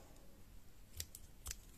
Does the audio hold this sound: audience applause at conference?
no